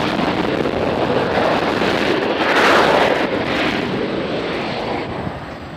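Airliner landing at Nashville International Airport, a broad, roaring rush of engine and wind noise that swells to a peak midway and then slowly fades, with constant wind buffeting on the microphone.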